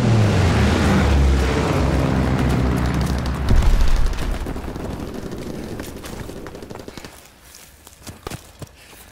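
Azon bomb exploding in Call of Duty: WW2, a loud, sustained low rumbling blast with heavy roar that swells, then slowly decays into scattered crackles and distant thumps.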